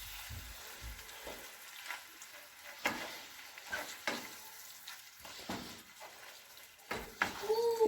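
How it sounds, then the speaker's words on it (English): A spoon stirs shepherd's pie filling in a hot pan, with a quiet sizzle underneath and intermittent scraping and clinking strokes, growing busier near the end. "Give that a good mix."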